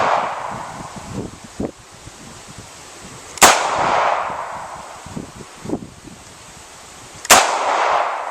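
Two sharp, loud gunshots from a steel-frame double action revolver at a range, spaced a few seconds apart, each with a brief ringing tail, with soft handling clicks and rustles between.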